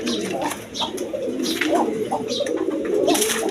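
Pigeons at a pigeon seller's coop coo continuously in overlapping low, throaty calls, fairly close, with a busy background hum.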